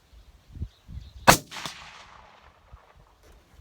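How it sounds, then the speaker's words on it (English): One sharp, loud gunshot from a CVA Hunter rifle cracks out with a short echoing tail, framed by faint thumps and handling noises before and after. "Man, that is a straight shooting rifle."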